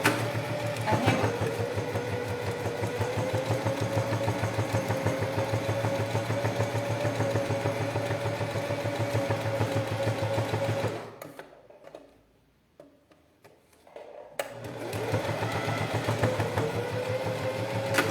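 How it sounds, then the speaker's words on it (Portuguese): A sewing machine topstitches a fabric toiletry bag, running in a steady, close mechanical whir that cuts out for about three seconds near the end and then starts up again. "agora eu vou virar e vou pespontar de novo aqui"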